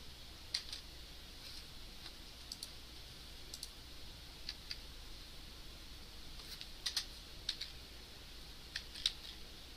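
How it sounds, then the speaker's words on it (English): Faint, sparse computer keyboard clicks in a quiet room, a few scattered keystrokes and short bursts over a low background hum. "so I type in something"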